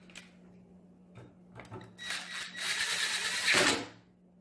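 A bolt is tightened on a handle during assembly, with a few light clicks, then a dense, close ratcheting and grinding rattle lasting about two seconds before stopping.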